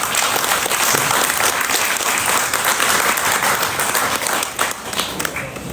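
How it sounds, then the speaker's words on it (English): Loud, dense applause from a large crowd honoring the Jamaica security force at a political meeting in St. Catherine, sustained and steady throughout before easing slightly near the end. "Give them a round of applause."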